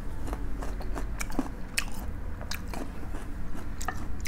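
Crunchy, slightly sour mango bitten and chewed close up, with repeated crisp crunches and wet chewing through a steady low background.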